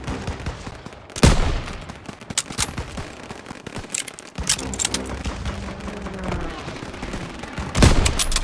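Heavy gunfire in Call of Duty WWII, a battlefield fight against German troops with a half-track: a dense, continuous crackle of rifle and machine-gun shots, with loud close bursts near the start and again near the end.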